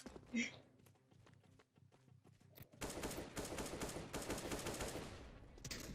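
Sudden firefight in a CS:GO co-op map, with quiet footsteps and faint noises giving way about halfway through to continuous, rapid automatic gunfire from several weapons, loud and close.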